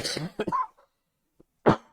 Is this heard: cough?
yes